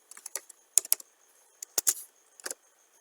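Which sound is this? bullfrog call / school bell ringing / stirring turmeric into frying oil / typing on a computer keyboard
typing on a computer keyboard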